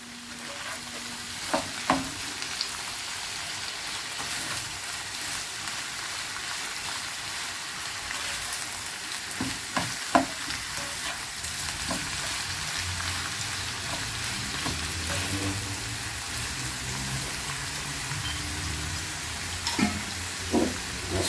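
Onion, spring onion and mushroom stir-fry in a wok with a loud, continuous close-up sizzle, broken by intermittent scraping and tossing clatters of the spatula, with no talking.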